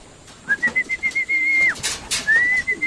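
Pigeons being fed grain in their loft call out over a soft background, a long steady whistle-like tone broken by brief fluttery bursts as the birds come down to feed.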